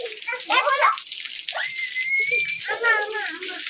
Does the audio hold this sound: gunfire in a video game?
no